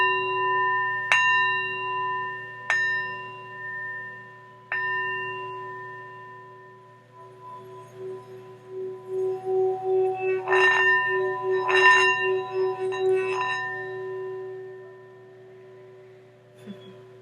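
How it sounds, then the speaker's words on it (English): A small bell is struck several times, giving bright metallic rings spaced a couple of seconds apart that linger and decay. These are followed by a softer run of quick, tinkling chimes near the middle and a few more bright strikes. "I ring my bell"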